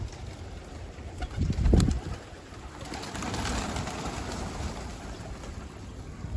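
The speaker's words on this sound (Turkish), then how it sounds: "Ya bunlar güvercin ya." Soft, low pigeon coos close by, with a brief burst of rustling and a steady background hum.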